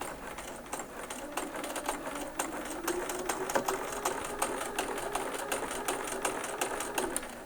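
A sewing machine stitches two bias edges of an eight-point quilt star, a steady fast mechanical rattle with regular needle clicks, close and alone, running evenly throughout.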